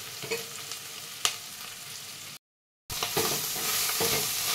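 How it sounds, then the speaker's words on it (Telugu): Ginger garlic paste fries in a pan for mutton curry, a dense close sizzle with occasional stirring scrapes, cut by a short silent gap before the sizzling returns. "ఒక 2 నిమిషాలు అల్లం వెల్లుల్లిపాయ పేస్ట్ మగ్గనివ్వాలి."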